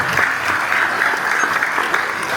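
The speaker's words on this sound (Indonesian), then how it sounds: "Tepuk tangan yang paling besar." Audience applause at a regional church assembly in Malinau, North Kalimantan, steady and full for a couple of seconds with no voices over it.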